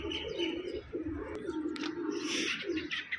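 A pigeon coos nearby in a run of soft, low, rolling calls repeated at a steady pace, clear and alone.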